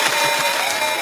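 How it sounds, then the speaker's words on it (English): A short round of applause and light cheering for a guest on a talk show, a steady wash of clapping heard alone. "Let's give her a round of applause right now."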